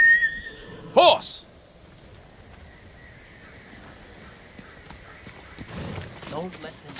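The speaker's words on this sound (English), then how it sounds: "Horse!" In the video game Ghost of Tsushima, a whistle call brings a horse that gives a loud, close whinny, followed by quieter hoofbeat noise under the ambience.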